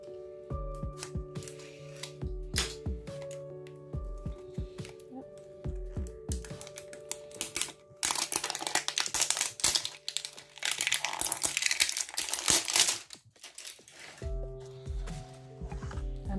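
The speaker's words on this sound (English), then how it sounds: "let me get my X-Acto knife out and open this up" Plastic and cardboard toy packaging for a Frozen 2 toy being sliced and pulled open with an X-Acto knife, heard as close crinkling, crackling and tearing in bursts, with a louder stretch of dense rustling in the middle.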